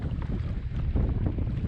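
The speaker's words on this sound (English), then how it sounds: "Wind's coming and going." Wind on the water while kayak fishing on the California Delta, a brief steady low rumbling gust of wind noise buffeting close to the microphone.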